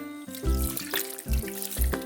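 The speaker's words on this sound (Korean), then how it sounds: "다음에 물을 부어주세요." Water is poured into a bowl of cucumber and carrot seasoned with vinegar and salt for a Korean cold chicken noodle soup, heard as a close, soft trickle with a gentle rhythmic pattern and no talk.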